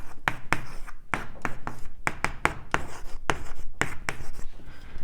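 Close, distinct taps and scratches as an equation is written out by hand during a cosmology lecture, arriving in quick uneven strokes with no talking.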